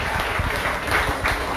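An audience at a community family festival in Le Robert claps together, a short burst of fairly dense, lively applause heard close by with a few louder individual claps standing out.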